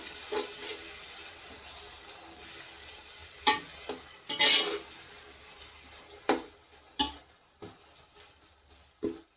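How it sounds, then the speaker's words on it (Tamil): Green chillies and tomatoes frying in a pan for chicken biryani, a low sizzle broken by several sharp spoon scrapes and stirring knocks at uneven intervals, close and moderately loud, no talking. "பச்சை மிளகா சேர்த்து தக்காளியும் இதில் சேர்த்துக்கலாம் தக்காளி பச்சை மிளகா எல்லாம் நல்லா வெந்து வரட்டும்"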